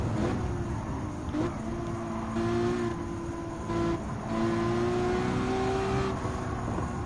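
Race cars, including a Lamborghini and an Enzo Ferrari, drive in Gran Turismo 7 during a hypercar parade, with engine whines that shift pitch as the cars rev and change gear. The sound stays at a steady, moderate level throughout.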